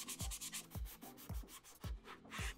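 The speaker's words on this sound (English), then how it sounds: "So I get some sanding sponge." Sanding sponge rubbed over a helmet shell in repeated back-and-forth strokes, each pass a close, gritty scrape with a soft thump at its start, about five even strokes with no talk.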